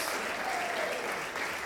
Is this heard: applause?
yes